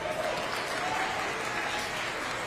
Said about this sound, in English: Give those kids a nice round of applause.